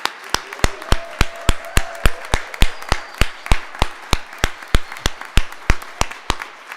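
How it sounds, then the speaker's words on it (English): Steady, evenly spaced claps at a parish annual meeting vote by acclamation, about three per second, sharp and close, with no voices, more like one or two people clapping in rhythm than a crowd. "all in favor signify by your applause"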